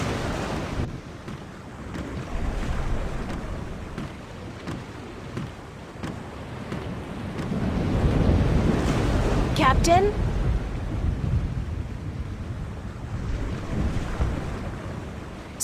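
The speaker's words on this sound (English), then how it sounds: "We must away from the storm front and to safe harbor." A stormy sea from the adventure game The Longest Journey, with constant roaring waves and wind buffeting a sailing ship. A voice calls out briefly over the steady rush, and no thunder clap stands out.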